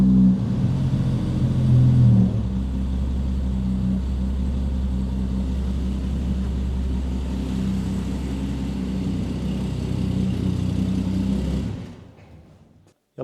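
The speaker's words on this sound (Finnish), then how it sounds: "Tuo on hyvän kuuloinen kone." An old Volvo 164 engine, recently revived after long storage and not yet running smoothly, idles with a steady low rumble close by for several seconds, then drops away to near silence at the end.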